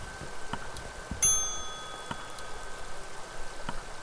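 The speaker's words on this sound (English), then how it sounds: "There's a bell over here." A single bell struck once in a video game inside an abandoned place, a bright metallic ding that rings out and fades over a soft rain-like ambient hiss, scattered faint clicks around it.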